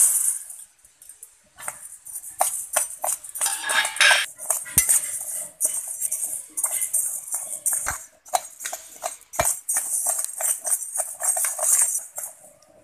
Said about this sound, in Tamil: இப்போ நம்ம அரிசியை வரத்துடலாம்.